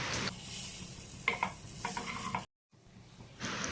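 Moong dal appe being flipped in an appe pan, with light scraping and stirring clicks over a soft frying sizzle, a brief silent gap, then the sizzle returning at close range.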